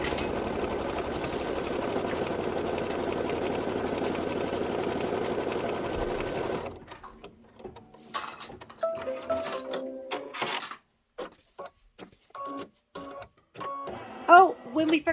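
Embroidery sewing machine stitching a block, a steady rapid mechanical chatter for about six seconds, close and even, then stopping abruptly, followed by scattered clicks and a voice talking.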